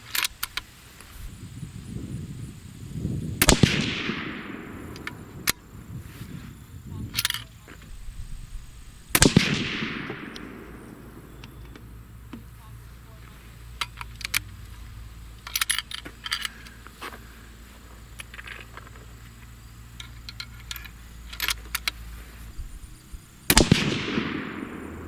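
Four loud, sharp rifle shots from a Savage 12 firing 6.5 Creedmoor Berger bullets, spaced several seconds apart, each with a rolling echo trailing off, between lighter clicks and clinks of brass and handling.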